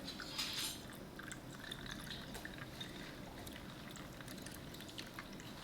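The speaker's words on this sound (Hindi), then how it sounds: "बाकी इसमें हम पानी डाल देंगे।" Water poured into red syrup in a glass for lemonade, a faint, steady trickling pour lasting several seconds, with a slightly brighter splash near the start and no voices.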